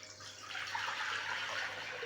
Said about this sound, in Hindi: अब इसमें 1 लीटर पानी डाल दूंगा।